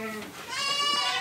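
An Etawa goat bleats while eating, a loud, drawn-out nasal cry that rises midway and holds for over a second, close to the listener.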